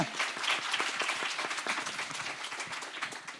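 A crowd at a Pride question time session applauds, with many hands clapping together in a full, even roar that carries on steadily and eases slightly toward the end, with little talk underneath.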